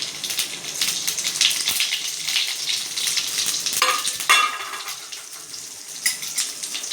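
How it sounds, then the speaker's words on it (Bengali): Raw cumin seeds sizzle in hot oil for a bottle gourd bhaji, a continuous crackling fry with a sharper burst of spitting midway, close and alone. "জিরার ফোড়ন দিলাম, কাঁচা জিরার ফোড়ন।"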